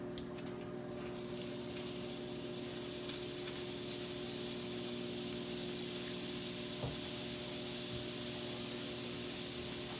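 Half a stick of butter melts in a pan, giving a soft, steady sizzling hiss over a low kitchen hum, fairly quiet and unbroken throughout.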